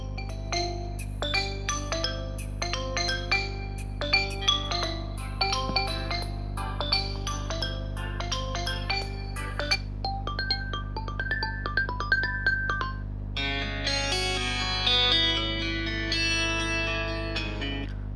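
Assorted ringtones from a Xiaomi Redmi 9C played loudly through the phone's own speaker, one melody after another with bright chiming and synth tones, ending on a denser, brighter tune, with a steady low hum underneath.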